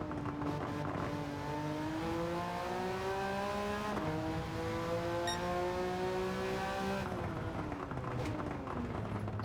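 A Porsche 911 GT1 Strassenversion '97 engine in Gran Turismo 7 revs and holds a loud, steady high-pitched whine, the pitch climbing and shifting through gear changes, continuous and close.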